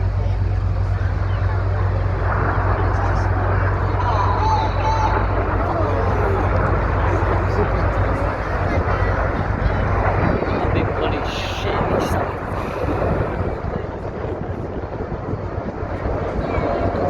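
Red Arrows jets flying the Crossbow manoeuvre at a Scarborough Armed Forces Day air display: a loud, continuous roar that swells and fades overhead across the whole stretch, with crowd voices chatting underneath.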